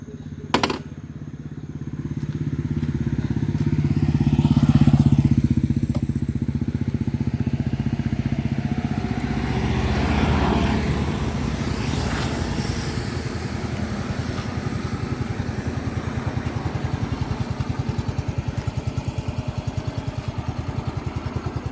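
A Yamaha StreetRally 125 scooter engine starting with a brief thump, then settling into a steady, quiet idle that holds for about twenty seconds without talk.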